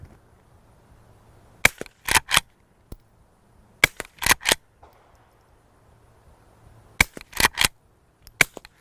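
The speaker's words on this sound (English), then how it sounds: "It's quieter shooting with a short can like this with no ear protection than shooting a centerfire rifle with earmuffs on." Suppressed Henry Frontier threaded lever-action rifle firing outdoors: four clusters of sharp, loud cracks, each group two to four quick shots with lever-cycling clicks between, separated by pauses, no talking.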